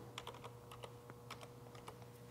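Quick, light taps on a computer keyboard come in short bursts against a faint electrical hum, quiet and close.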